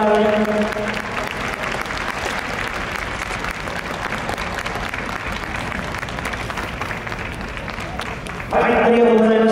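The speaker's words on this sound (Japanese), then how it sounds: "どうぞ大きな拍手をお願いいたします。" An audience claps throughout a motorsport championship award ceremony photo session, producing a steady, broad applause with an announcer's voice heard over it. The clapping swells louder near the end.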